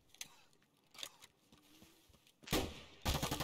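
Pistol gunfire in the video game Escape from Tarkov, several sharp shots spaced apart, the later ones louder and nearer, with quieter distant reports earlier.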